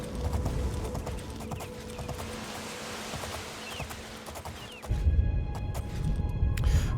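Hoofbeats of a galloping horse in the video game Oblivion, a steady rhythmic clip-clop running throughout, bedded in game music and ambience, growing slightly louder toward the end.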